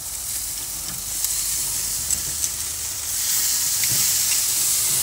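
A bone-in ribeye steak sizzles steadily in a hot pan, a close, continuous hiss with faint crackles and small pops that swells slightly louder toward the end.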